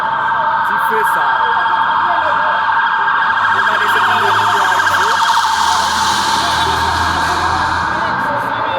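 A fire truck siren wails continuously and loudly as firefighters arrive at a burning house on a street in Cap-Haïtien, Haiti, with a steady warbling tone over crowd noise and voices in the background.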